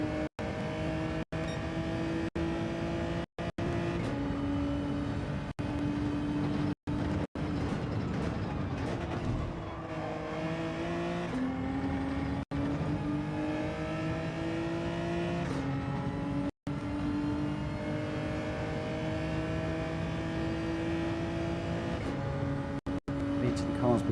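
Racing cars in the Gran Turismo 7 video game during a daily race at the Red Bull Ring, with engines whining steadily through shifts and accelerations for the whole stretch while someone talks over them.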